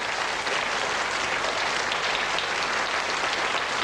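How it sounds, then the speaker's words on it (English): Studio audience applause for contestant Alan on the 1985 Scottish TV game show Now You See It, a dense, steady burst of clapping that stays loud and even throughout. "A round of applause, please, for Alan, one of the contestants in Now You See It"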